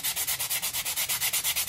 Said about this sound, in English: I'm just going to take it and rub it on this edge